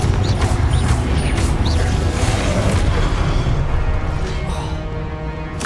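Booming magical explosions from the Confringo blasting curse in Hogwarts Legacy, played on PC, which rumble loudly amid clattering combat noise and fade slightly toward the end.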